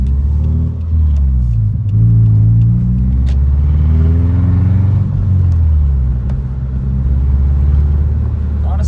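A loud, throaty car exhaust with the muffler removed rumbles close by, its pitch rising and falling as the engine revs and settles, deep and unmuffled.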